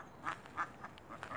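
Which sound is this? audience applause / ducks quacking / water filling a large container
ducks quacking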